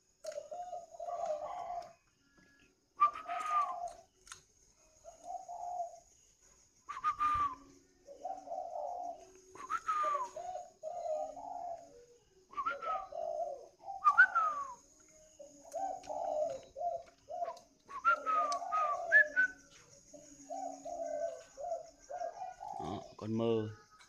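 A spotted dove with a bronze-toned voice coos in repeated phrases with short pauses, close and clear, with a few soft clicks and a sharp knock at the end.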